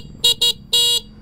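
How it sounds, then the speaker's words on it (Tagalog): A car fitted with dual horns, a PIA horn and a stock horn, blasts three times up close: two quick short toots followed by one longer honk, with no talking. "Isang PIA horn at isang stock. So testing natin mga par."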